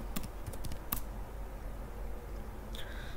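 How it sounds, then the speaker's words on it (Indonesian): Keystrokes on a computer keyboard as a Linux terminal command is entered, a handful of quiet, quick clicks early on followed by a pause and a faint later tap. "kemudian kita ketikkan lsblk"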